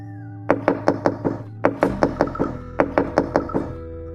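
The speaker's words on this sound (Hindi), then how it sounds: "उन लोगों ने अब जोर जोर से दरवाज़ा खटखटाना शुरू कर दिया" Loud knocking on a wooden door comes as three bursts of rapid, heavy raps, each burst holding several sharp knocks, close and forceful with short pauses between them.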